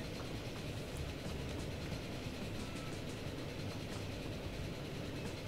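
A train in the Transport Fever video game pulls into a station with a steady, dense rumble of wheels and carriages, continuous and fairly loud, with no talk.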